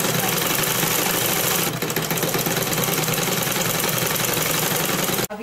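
Sewing machine stitching double seams along the side slits of a kameez, a steady, loud, close mechanical whir that runs on almost without a break and stops abruptly just before the end.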